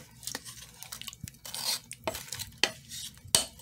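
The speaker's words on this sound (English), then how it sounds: "give it a nice stir" A utensil stirs beef in a crock pot, giving close, irregular scraping and clinking against the pot's ceramic insert, quick strokes with no voices.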